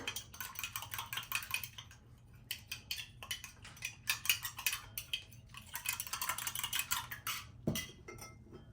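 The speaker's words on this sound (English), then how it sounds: "You want to whisk that together." Rapid metallic clinking of a whisk mixing flour and cold water in a bowl, quick rhythmic strokes in bursts with brief pauses, close and fairly quiet.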